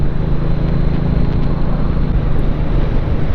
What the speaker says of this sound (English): The V-twin sound so good.